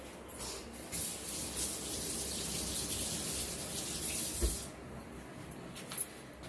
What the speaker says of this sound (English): so I'm going to rinse my spoon